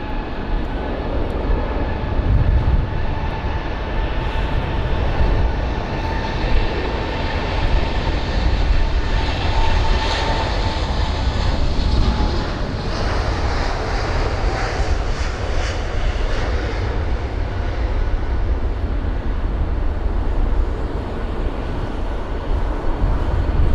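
British Airways Airbus A350-900 taking off at London Heathrow, a sustained loud jet engine roar with whining tones, steady throughout and without talk.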